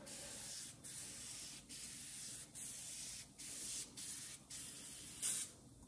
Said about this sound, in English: we're going to do the aerosol can. Spray it on there nice and even.